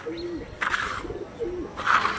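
A blue pigeon coos up close in two short rising-and-falling phrases, each followed by a brighter rustling burst, loud and alone with no talk.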